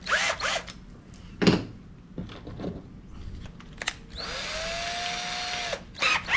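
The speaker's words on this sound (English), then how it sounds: "drill bit, just so I can make the pilot holes" A power drill drills pilot holes with a small bit in short whirring bursts, then runs in a steady, whining spin for over a second before stopping, fairly close with some handling noise.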